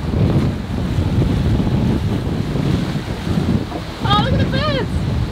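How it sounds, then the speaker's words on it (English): Strong gale-force wind buffets the microphone over a steady roar of ocean waves while sailing off the Cape of Good Hope, with a few high bird calls near the end. "it feels more real to be sailing around the cape with wind and waves"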